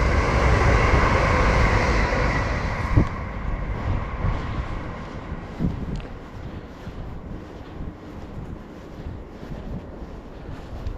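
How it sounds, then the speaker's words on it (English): A train rumbles past close by a canal towpath, loud at first and then fading into a lower, steadier roll with wind buffeting the microphone. "There's another train."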